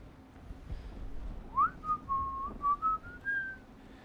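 A person whistles a short rising-and-wavering tune in several distinct bursts, fairly close and clear, over a low background rumble during a naval battle game session.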